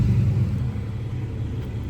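A Porsche sits empty under remote park assist, its engine running in a low, steady idle rumble that stays close and even for a moment, with no voices.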